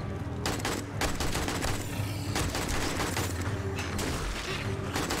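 Close, loud gunfire from the survival game 7 Days to Die comes in rapid bursts of sharp shots over several seconds, with brief pauses between volleys and mechanical clatter behind.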